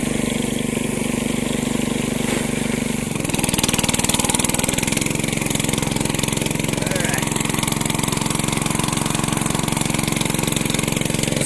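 A farm tractor engine pulling harrows across a ploughed field drones steadily and loudly up close, rising to a stronger run at mid revs partway through.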